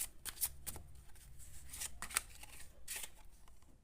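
Tarot cards being shuffled and drawn, giving quiet crisp riffles and soft slaps in short bursts, close by, with no talking.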